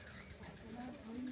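A domestic pigeon kept in a home loft gives a faint, low coo at close range, soft and brief against quiet background noise.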